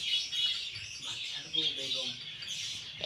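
King pigeons and chickens kept as pets give short, fairly close chirps and calls in quick bursts, with a low cooing or murmuring sound in the middle.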